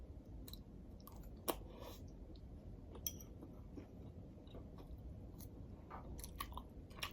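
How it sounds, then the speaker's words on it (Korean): Quiet, close chewing and biting while eating tonkatsu with beef bone broth, soft crunches and occasional clinks of cutlery or a bowl scattered over a low background hum. "돈가스랑 그리고 사골국물하고 먹고 있네요."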